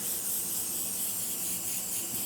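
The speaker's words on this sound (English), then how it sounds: "Hit it with your favorite cooking spray." Cooking spray hissing from an aerosol can onto a baking sheet for mango habanero chicken wings, one steady close spray lasting about two seconds with no talk.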